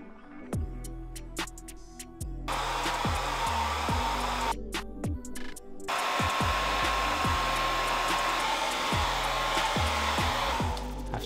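A heat tool blows with a steady loud roar while heating modeling clay, cutting out briefly in the middle before starting again, with a sustained whine and lower rhythmic thuds in the background.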